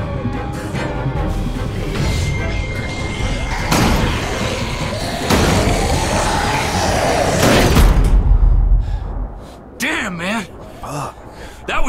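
A door slams shut in The Walking Dead video game during a tense zombie scene, a loud impact amid ongoing dialogue, music and commotion, with people talking throughout.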